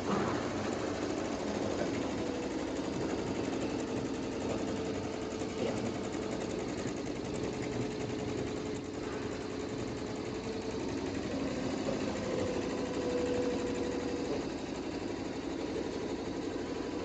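A 4-head YunFu embroidery machine with a cap attachment runs a cap embroidery test, giving a steady mechanical whir and rapid needle chatter that holds constant throughout.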